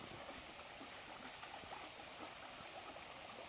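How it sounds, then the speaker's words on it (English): A small waterfall in Tijuca National Park in Rio de Janeiro makes a faint, steady rushing hiss of falling water, heard from a distance with no voices. "Oh, it's a mini waterfall."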